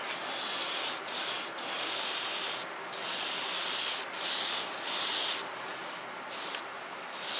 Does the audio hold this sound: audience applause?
no